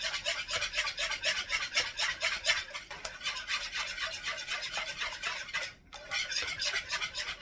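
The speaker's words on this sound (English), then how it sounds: "And then I'm going to whisk those eggs together." Eggs are whisked in a bowl, a fast steady rhythmic scraping and clicking that repeats without pause, close and fairly quiet, with a brief break near the end.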